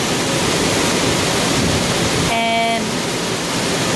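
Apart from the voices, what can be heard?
heavy rain pouring outside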